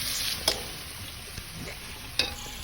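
Onion and boiled pork ribs sautéing in a pan, a steady soft sizzle with a few sharp clinks of a spatula stirring, close and alone without any voices.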